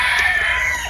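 A rooster crows once, loud and close, a short sustained call with no voices over it.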